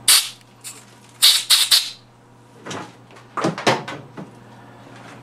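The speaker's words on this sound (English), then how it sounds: "Lightly blow them chips out of that hole" Compressed air from a shop air hose blows metal chips out of a freshly drilled hole in a homemade hand engraving machine handpiece. Several short, sharp hissing bursts come close up over a steady low machine hum.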